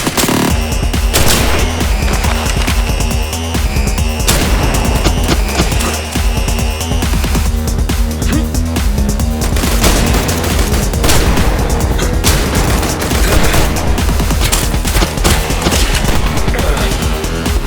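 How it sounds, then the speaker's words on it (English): Shotgun gunfire in the video game I Am Your Beast comes as rapid, loud repeated blasts and impacts over a thumping music track, continuing densely for the whole stretch. "He's got a shotgun."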